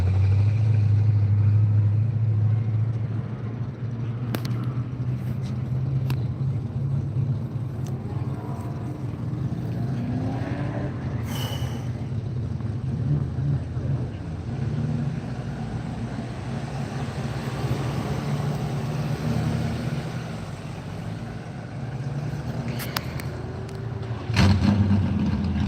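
Cars running at the Las Vegas Motor Speedway drag strip at night, heard as a steady low engine rumble from a distance that holds throughout with a few brief sharper bursts.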